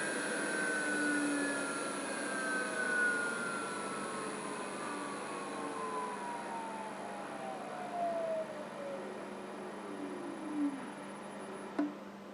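A Jet 8-inch variable speed buffer with an electric brake is switched off. Its steady whine drops smoothly in pitch as the motor slows, ending with a faint click. No one speaks.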